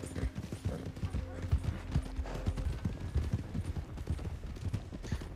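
Horse hooves in the Red Dead Redemption 2 video game, a continuous rhythmic clip-clop of a galloping mount, close and moderately loud beneath low game ambience.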